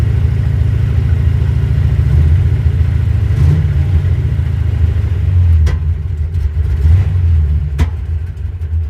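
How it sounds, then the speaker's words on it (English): A car engine fitted with an Edelbrock 1405 carburetor runs at a steady fast idle of about 1500 RPM on the fast idle cam while warming up, a loud, continuous low rumble with slight wavering and no talking. "It's at 1500 idle RPMs on the fast idle cam."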